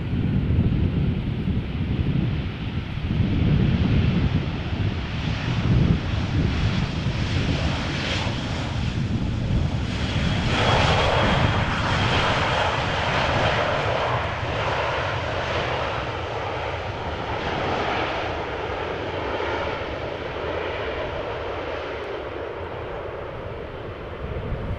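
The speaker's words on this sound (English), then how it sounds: "Vueling A320 arriving from Barcelona." A Vueling Airbus A320 arriving at Amsterdam Schiphol Airport after rain roars past as a loud, broad engine rumble with a rising and falling whine, then fades to a steady distant drone amid wind noise, with no voices.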